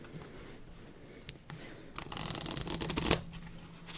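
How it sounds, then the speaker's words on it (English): Playing cards being shuffled for a game of solitaire, a soft riffling patter that builds into a dense, louder burst of flicking cards before ending with a final snap, close and alone. "That's enough for our first shuffle."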